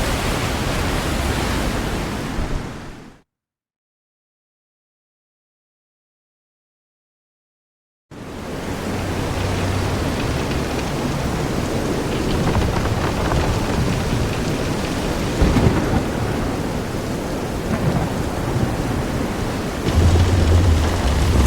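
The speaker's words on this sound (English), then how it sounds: "This is some storm." Heavy rain and rolling thunder of a storm at sea in the video game Visions of Mana, a loud steady broadband roar that cuts out to silence for several seconds, then returns and continues with swells.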